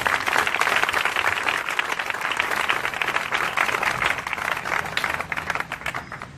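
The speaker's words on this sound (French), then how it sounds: "Acclame pour Jésus" A crowd at a religious crusade in Ebolowa applauds and cheers steadily, dense rapid clapping sustained throughout, loud and close with no voices standing out.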